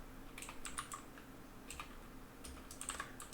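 Code being typed on a computer keyboard: a few quick bursts of light key clicks with short pauses between them, faint and close in a quiet room, with no voices.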